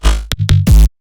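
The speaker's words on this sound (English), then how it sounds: "It's actually a sine wave, which is FM being FM'd by the monster wavetable" A dry FM synth patch, a sine wave frequency-modulated by a wavetable with no effects, plays three loud, buzzy notes in quick succession, each separated by a short gap, the last held longer before cutting off.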